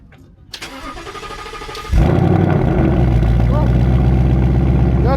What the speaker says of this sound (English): This cold start is about to be really nasty right now